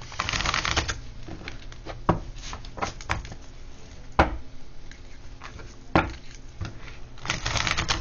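Tarot cards being shuffled and drawn, soft riffling and flicking with sharp slaps as cards land on a surface, repeated in irregular bursts, close and fairly quiet, no talking.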